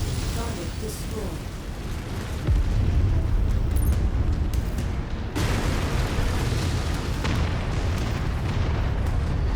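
Heavy booms from a cluster of artillery cannons being destroyed in MechWarrior 5, loud explosive blasts at intervals over a steady rumbling battle bed.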